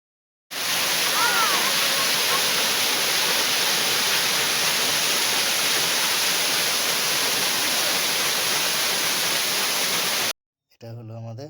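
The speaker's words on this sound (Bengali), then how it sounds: "বামনি ঝর্ণায় আপনাকে স্বাগত।" Bamni waterfall in the Ayodhya hills of Purulia roars in a loud, close, unbroken rush of falling water that cuts off abruptly near the end, followed by a brief voice.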